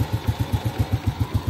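A used motorcycle engine idling during an inspection, close and steady, with an even, rapid chug of regular exhaust pulses and a light mechanical clatter, no voices.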